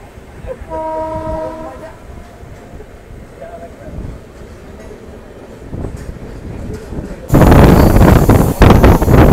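The 12343 Darjeeling Mail passenger train running from Kolkata toward Darjeeling, a steady rumbling clatter of wheels on rails with a horn sounding early on, then a loud rush of wind near the end.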